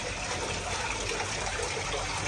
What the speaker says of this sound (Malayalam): നിങ്ങൾക്ക് വെള്ളച്ചാട്ടം വേണമെങ്കിൽ വെള്ളച്ചാട്ടം ഉണ്ട്